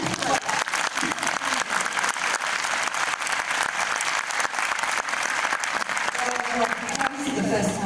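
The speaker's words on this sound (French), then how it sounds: "Applaudissements" Sustained applause from a film screening audience at a Q&A, dense steady clapping filling the room with a murmur of voices mixed in, tapering slightly near the end.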